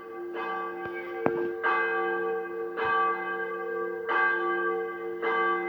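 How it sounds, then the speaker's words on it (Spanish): A large church bell tolls about five times at a slow, even pace, each strike ringing out and humming as it fades. "la campana de la iglesia hizo resonar su voz de bronce"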